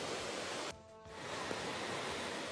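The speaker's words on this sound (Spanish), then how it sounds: "Mire cómo la arrasa la moto, mire, es que se está lloviendo terrible." Torrential rain and floodwater sweep a motorcycle along, making a steady broad roar of rushing water and downpour with a brief dip near the start, at moderate loudness and with no talking.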